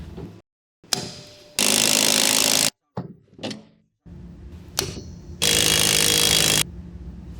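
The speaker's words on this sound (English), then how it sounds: "Now grab your 19mm deep socket on your impact wrench and remove the leaf spring center bolt." An impact wrench with a 19mm deep socket rattles off a leaf spring center bolt on a 2014 Ford F150, firing in two long loud bursts with short clunks and gaps between them.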